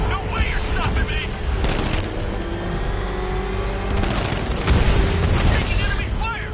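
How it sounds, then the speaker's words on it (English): Bursts of gunfire from the Batman Arkham Knight video game, loud and dense, mixed with mechanical clatter and booming impacts, with game voices speaking over the shooting. "Taking enemy fire!"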